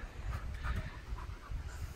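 A dog pants quickly and rhythmically on a golf course, close to the microphone and fairly quiet, with soft outdoor background noise and no speech.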